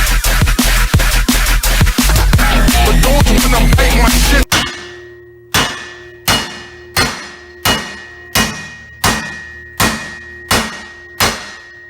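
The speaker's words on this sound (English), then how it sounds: "now I acquire hammer and do that several times" Heavy metallic clangs from a hammer striking a steel plate, first in a rapid dense flurry, then about a dozen evenly spaced ringing blows, loud and close.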